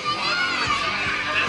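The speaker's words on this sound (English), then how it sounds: "As this crowd screams out" A crowd yells and screams at a burger eating relay contest at Brisbane Burger Fest, a dense, continuous roar of excited voices with shouting children mixed in, loud and close throughout.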